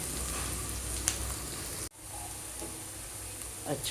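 Food for homestyle chana masala frying in a pan gives a steady close sizzle, with a brief clatter of stirring partway through and soft scraping afterward, and no voices.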